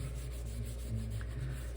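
Soft, rhythmic rubbing of Howard's wax onto spinning turned wood on a lathe, over a low mechanical hum, steady and close.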